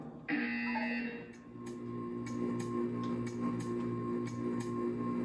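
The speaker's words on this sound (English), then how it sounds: "When you hear the buzzer, stare at the art." A buzzer from the video game Portal 2 starts with a loud, steady electronic tone lasting about a second, then gives way to a sustained hum with a row of short pulsed beeps, close and clear with no talking.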